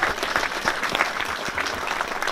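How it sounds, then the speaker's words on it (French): Brief burst of audience applause honoring rural mayors, a close, dense wash of many hands clapping steadily without pause. "je souhaiterais bien qu'on leur fasse un bel applaudissement pour les remercier et de ce courage notamment."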